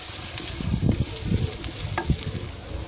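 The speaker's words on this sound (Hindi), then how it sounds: "अदरक लहसुन की भी हम भुनाई कर लेंगे थोड़ी" Crushed ginger and garlic roasting in a hot pan for dhaba-style chana dal give a steady close sizzle, broken by a few soft stirring scrapes, with no voices.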